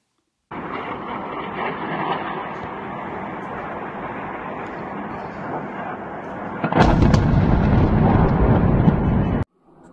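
A missile passes over a city during a power outage, heard as a sustained broadband roar that swells suddenly louder and harsher near the end before cutting off abruptly.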